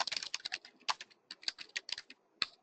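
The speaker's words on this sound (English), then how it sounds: "some numbers I'm just typing, okay." Numbers are tapped out on a computer keyboard in quick, uneven bursts of crisp close key clicks with short pauses between presses, alone without talk.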